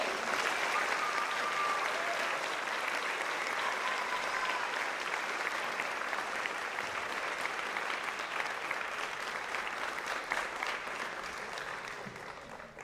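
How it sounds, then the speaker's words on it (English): An audience at a high school JROTC awards ceremony gives a long, steady round of applause for a cadet, dense continuous clapping from many hands that holds level and only slightly thins toward the end. "Please give one more round of applause for Cadet Carabane."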